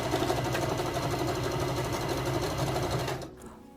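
A sewing machine runs steadily at speed, stitching stretchy fabric backing onto a crocheted blanket, a dense continuous whir that stops abruptly near the end.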